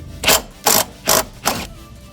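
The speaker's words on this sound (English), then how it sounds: "We'll go ahead with our impact wrench just like so." Impact wrench driving a 16mm socket on a motor mount bolt of a 2013 Nissan Altima 2.5L, heard as four loud, close, evenly spaced bursts of rattling hammering with short pauses between them.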